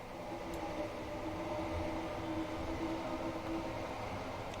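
Class 379 electric train running on the West Anglia Main Line in Train Simulator Classic, a steady rumbling cab drone with a faint tonal whine and occasional clicks, with no talk.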